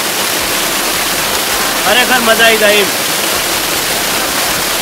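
Water gushes from a farm borewell in a loud, steady, noisy rush close by, with a person talking briefly over it.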